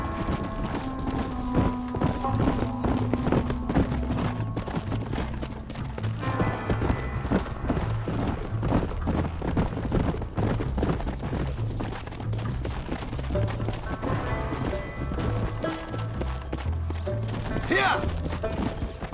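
Steady clip-clop of horse hooves in Red Dead Redemption near a stable, with a mechanical rattle, an occasional whinny near the end, and voices talking over it.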